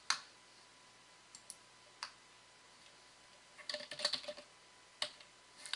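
Keys clicking on a computer keyboard as a search term is typed, with scattered single taps and a short quick burst of strokes, close and quiet, no voices.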